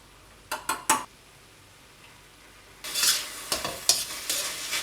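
Beef stir-frying in a hot wok: a few quick metallic stirring scrapes, a short lull, then a burst of loud sizzling with repeated spatula strokes against the pan, close up.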